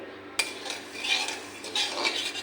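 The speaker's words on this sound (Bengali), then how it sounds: "এখন আমি তেল ছাড়া সুজিটা ভেজে নেব" Semolina dry roasted without oil in a pan, a spoon scraping and clinking against the metal in irregular stirring strokes, close and fairly loud with no talking.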